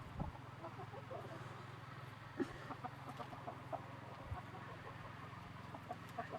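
A silkie hen with glaucoma gives soft, scattered clucks that sound faint and a little distant against a low, steady background hum.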